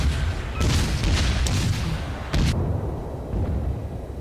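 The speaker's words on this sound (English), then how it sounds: "These cannons sound badass." Naval cannon salvos fire in a World of Warships battle, loud booming blasts arriving in a few heavy bursts over a constant rumbling background, with no talk.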